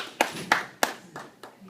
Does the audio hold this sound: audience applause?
yes